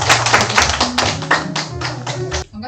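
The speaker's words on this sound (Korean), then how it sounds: "우리 다 함께 박수로 한번 초청하도록" An audience at a trauma-centre academy lecture in Pohang claps to welcome a guest professor, a dense, steady patter of hand claps close by that stops abruptly near the end.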